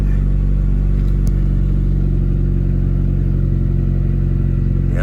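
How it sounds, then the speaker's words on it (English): Boosted car engine idling steadily just after being started, a loud continuous low rumble with even harmonic drone and a faint brief click, no voices. "I'm gonna start the engine for y'all right now."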